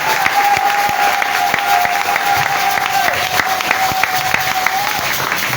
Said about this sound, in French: la manifestation par les acclamations